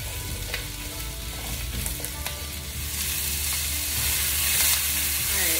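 Onions frying with ginger garlic paste being stirred in, a close, steady sizzle with light spatula scrapes that grows slightly louder toward the end.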